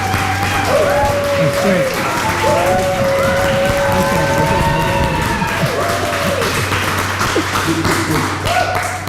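Audience applause fills a hall at a bunq company update event, steady dense clapping throughout, with a voice speaking over it.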